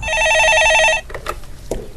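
A telephone rings with an incoming call on a stock market radio show, a loud rapid electronic trill for about a second before giving way to low background noise.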